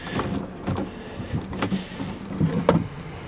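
The gun lock on a 2016 Ford Explorer police interceptor releases in a series of close mechanical clunks, clicks and short electric actuator whirs, with one sharper latch snap near the end.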